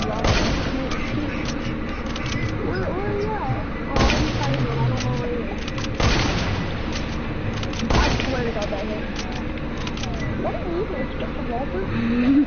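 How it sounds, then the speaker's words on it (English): Hunting rifle shots in Fortnite ring out as a few loud, sharp cracks spaced roughly two seconds apart, over constant game noise while a player talks. "I'm using a hunting rifle."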